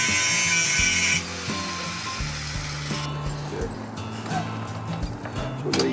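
Power tool smoothing down a custom taillight part for a Kawasaki KZ1000 motorcycle rebuild, a loud whirring grind at first that drops into a steadier buzzing hum with clunks and scraping through the rest.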